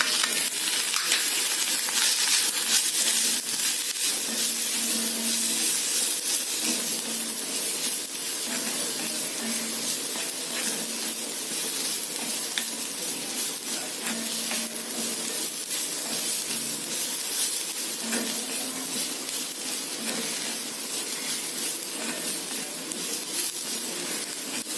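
Masala sautés in a pan for spiny gourd (kantola) subzi, giving a steady, close sizzling hiss that runs unbroken for the whole stretch, with faint scrapes and soft clinks now and then.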